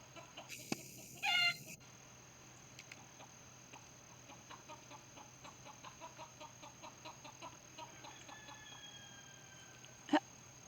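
A rooster in a garden gives a string of soft, repeated clucking calls to the hens, faint and fairly distant over a quiet outdoor background, with a couple of brief louder bursts.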